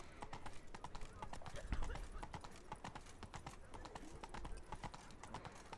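A horse trots along a road in the video game The Witcher 3: Blood and Wine, its hooves clip-clopping in a steady, even rhythm throughout, fairly close and quiet.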